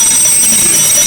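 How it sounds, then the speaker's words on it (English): A machine's damage alarm rings in a continuous high electronic tone, loud and steady through a brief burst, with no voices. "There is an alarm system located next to the antenna, which rings if any portion of this machine is damaged"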